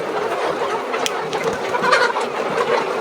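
A flock of layer hens nearly 15 weeks old clucks and murmurs continuously close by, with overlapping chatter and a few sharper calls rising out of the busy coop noise.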